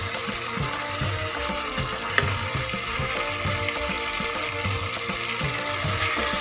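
Water poured into hot garlic pepper chicken frying in a pan sets off a loud, steady sizzle and bubbling hiss that continues without a break, close by, with no voices.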